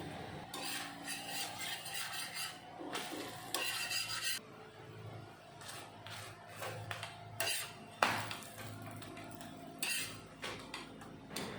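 Metal scraping and tapping on a hot griddle with a low sizzle underneath, in repeated bursts as a paratha is turned and pressed.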